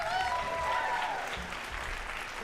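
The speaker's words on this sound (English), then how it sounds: "So let's give all the kids a round of applause." A crowd applauds steadily at a high school jazz concert, dense clapping filling the whole stretch with a few whistles and cheers ringing over it.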